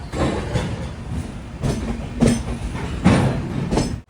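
Matsyagandha Express rolling on rails between Kerala and Goa, a steady rumbling rush with repeated clacking bursts from the wheels at rail joints, close and fairly loud with no voices.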